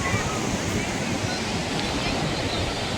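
Sea waves at Varsoli beach: a broad, steady rush of surf mixed with wind buffeting the microphone, loud and unbroken throughout.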